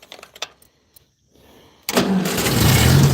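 An old tractor engine turns over after a few faint clicks and rattles, then fires and settles into a loud, rough, steady run that grows slightly stronger.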